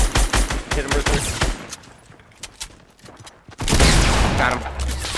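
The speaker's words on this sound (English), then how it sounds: "We're getting shot at." Video game gunfire from a battle near a large fort crackles in rapid bursts of shots at first, thins out in the middle, then a dense loud volley swells in the final seconds, with faint voices underneath.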